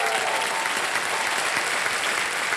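Studio audience applause on a Hindi TV quiz show, steady dense clapping filling the whole stretch at an even, sustained level with no talk over it.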